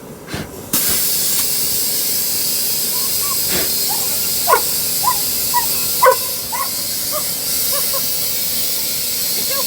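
A loud, steady hiss of air leaking from an unseated tire bead runs throughout, while a dog barks and whines intermittently in the background.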